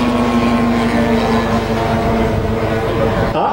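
A small passenger transport airplane flies aerobatics at an air show, giving a continuous droning engine note with a strong steady hum that bends in pitch near the end.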